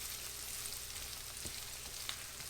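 Onions and garlic being stirred as they fry, a soft, even sizzle with faint stirring taps, low and steady throughout.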